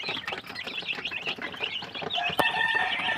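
Chickens cluck close by in quick, overlapping bursts that carry on steadily, with a sharp click partway through and no talking.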